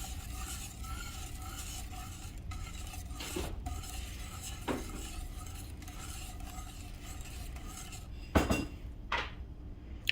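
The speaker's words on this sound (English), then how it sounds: "I'm a little neurotic about stirring. I don't stop." Grapefruit curd of butter and egg stirred continuously in a pot, with a quiet, close scraping swish and a few sharper clinks of the utensil against the pot near the end.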